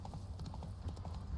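Roach the horse trots in The Witcher 3, hooves clip-clopping in a quick, even rhythm of soft thuds over a low game background.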